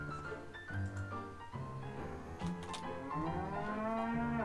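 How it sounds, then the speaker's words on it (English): Several cows moo in long, drawn-out calls in the Wallace & Gromit's Grand Adventures video game, loud and close, overlapping one another with a higher call partway through. "Oh, the cows have escaped."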